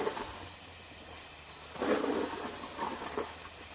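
A garden sprinkler sprays water over spinach in a greenhouse, a soft continuous hiss with a brief louder surge of spray partway through.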